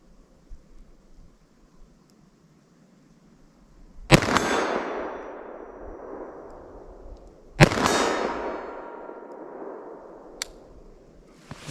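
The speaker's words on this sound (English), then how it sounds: "I'm going to slow fire these and just see how these will do from 40 yards" A Winchester Defender short-barrel shotgun slow-firing .357 Magnum rounds at a 40-yard target outdoors: two sharp, loud single shots a few seconds apart, each with a long fading echo, then a faint metallic clink.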